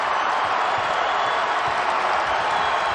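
A sellout college basketball arena crowd at a Villanova game roars in a continuous, loud, broad wash of cheering and noise with no breaks.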